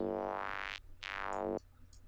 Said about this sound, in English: Now the bandpass on a saw wave is a very common sound in Psytrance.